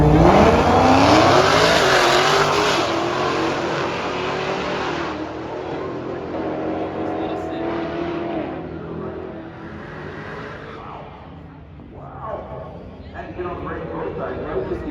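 Dodge Hellcat muscle car drag racing at the strip, with loud engine roar and revving fading as the cars pull away, while an announcer talks over it throughout.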